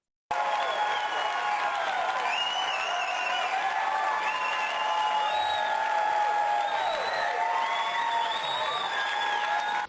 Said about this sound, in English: What the hell are they standing and applauding for?